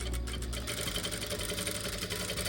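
A sewing machine stitches along fabric piping with a quiet, continuous whirring hum and soft rapid needle rhythm, steady and close throughout.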